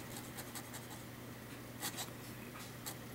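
Vintage Waterman Commando fountain pen with a flex nib scratching across paper, a soft continuous scritching with a few brighter strokes, close and quiet over a faint steady hum, no voices.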